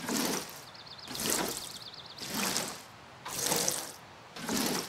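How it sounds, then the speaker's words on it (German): Plants being watered in the Fae Farm video game: five evenly spaced splashing pours of water, each about a second long, separated by brief quiet gaps, with a light shimmering chime over one of them. "So, jetzt müssen wir gleich mal gießen."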